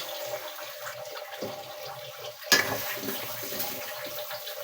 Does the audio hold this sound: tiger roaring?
no